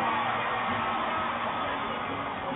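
A gigantic concert crowd roars continuously through a live music performance, a dense, steady wash of cheering and shouting that stays loud and close from start to finish.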